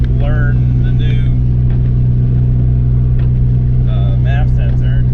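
A car engine runs at a steady, droning hum while the car is driven to warm up after a new MAF sensor is fitted, loud and constant beneath someone talking over it.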